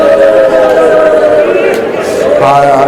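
A train passes close by with a loud, sustained rumbling drone and tonal hum, and a brief whistle-like tone near the end; no clear speech is heard over it.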